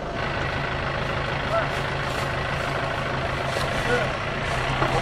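A truck engine idles with a steady low rumble that runs throughout, with people talking over it in the background.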